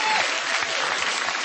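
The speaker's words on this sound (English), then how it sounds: "you really shouldn't applaud" A studio audience at a comedy show breaks into loud, dense applause, a steady wash of clapping that carries on unbroken for the whole short stretch.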